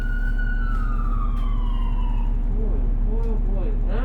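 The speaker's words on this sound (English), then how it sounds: "Ambulances everywhere today." An ambulance siren wails with a falling tone over the steady engine drone of a 2001 New Flyer D40LF city bus in Calgary, followed by a voice speaking.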